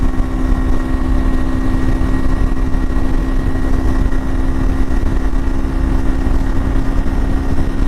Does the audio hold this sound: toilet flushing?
no